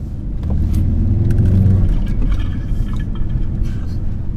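A 2018 Ford Focus RS LE accelerates hard, its engine giving a loud, steady in-cabin rumble that swells as revs climb, then holds a droning roar with road noise underneath.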